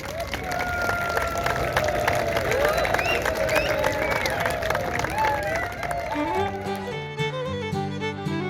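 An audience at the Quaid-e-Azam Football Championship Tournament in Ayub Park, Rawalpindi, claps and cheers in a loud, sustained crowd roar with voices and shouts mixed in, and music rises under the noise near the end.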